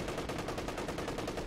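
Steady machine-gun fire from a video game hammers in a fast, even rhythm of rapid shots, loud and close, with no talk.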